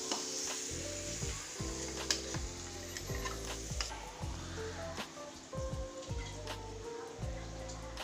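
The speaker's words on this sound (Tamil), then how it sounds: "இந்த அரைச்ச மாவை தூக்கி நம்ம இந்த தாச்சியில் ஊற்றுவோம்." Ground rice batter for neer kolukattai sizzles steadily in a hot pan, a continuous soft crackle and hiss with light stirring, heard alone over a faint tonal background.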